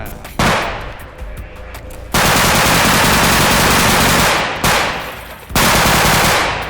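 Loud bursts of automatic gunfire from a bodycam-style shooter game in long rapid volleys with short pauses between, close and dominant, with a voice faintly underneath.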